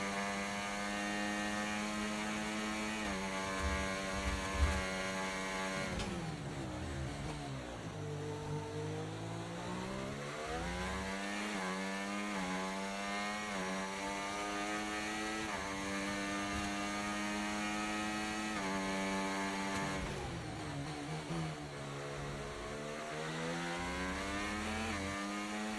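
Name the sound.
racing car engine at low revs in sixth gear, from a video game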